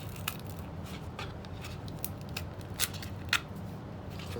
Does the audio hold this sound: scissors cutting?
yes